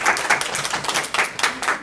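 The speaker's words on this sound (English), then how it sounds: "That applause belongs entirely to somebody else." Audience applause at a writing awards ceremony, a short burst of dense clapping with uneven swells, moderately close and heard alone.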